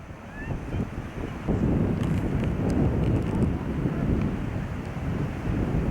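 Steady breezy wind blowing outdoors near Bell Falls in Nova Scotia, a dense continuous rush buffeting the microphone, loud and unbroken throughout.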